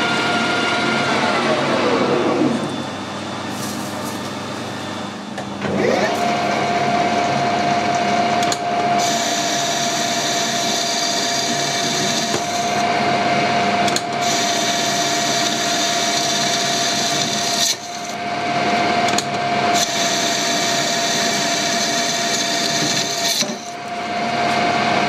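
A metal lathe turns aluminium and throws stringy chips, giving a continuous loud whine with a steady tonal hum and broadband cutting noise. Brief pauses and shifts break it up as the cut stops and restarts.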